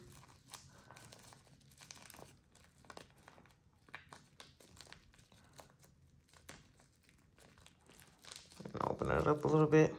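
A plastic Bobo balloon neck being folded down gives soft crinkles and rustles throughout, building to a louder, denser crumpling burst near the end, with a voice talking quietly in places.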